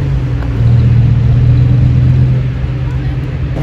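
A Lamborghini Huracan STO supercar driving past on a Monaco street, a deep engine rumble swelling to a peak then easing away, with a voice talking over it.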